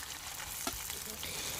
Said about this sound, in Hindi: लेती हूँ सबसे पहले पनीर फ्राई।